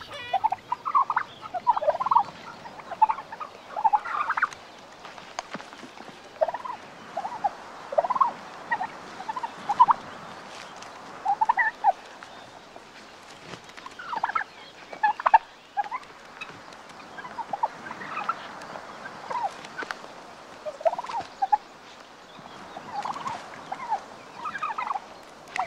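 Male turkeys gobble threateningly in a farmyard, a series of rapid, bubbling calls repeated in bursts through the whole stretch, some near and some farther off, with no talk.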